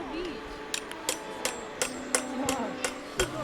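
Sharp hammer blows strike at an irregular, fairly quick pace, moderately close, over a faint background hum and occasional quiet voices, at Pniv Castle.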